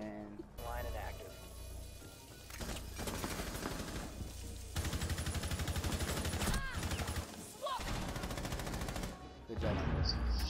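Rapid bursts of gunfire in the tactical shooter Rainbow Six Siege, loud and dense, with overlapping automatic volleys and a few sharp ringing effects, sounding under excited players' talk.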